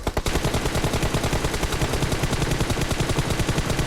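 Rapid automatic gunfire in the video game PUBG, a dense, unbroken burst of loud shots at a fast steady rhythm lasting several seconds, with no talk.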